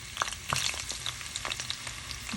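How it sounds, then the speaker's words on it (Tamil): A steady crackling sizzle of potatoes frying lightly in oil, with occasional sharp stirring taps, close and moderately quiet, for a drumstick and potato curry. "அதுக்கு இப்போ பொட்டாட்டோவை லைட்டாக பொரிச்சு எடுத்துக்கொள்வோம்."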